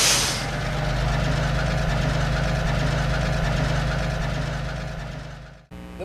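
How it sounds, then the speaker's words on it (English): A motor running at a steady idle with a low, constant rumble and hum, cutting off abruptly near the end. "So, starting engine."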